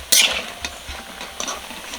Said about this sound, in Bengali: মুসে বুনো কচুর বড়া ভাজা হয়ে গেছে